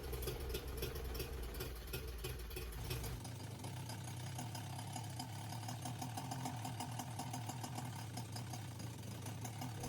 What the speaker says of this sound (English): I'm going to let the engine burn whatever fuel is left in the engine.